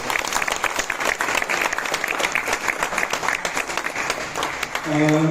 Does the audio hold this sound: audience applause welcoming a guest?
yes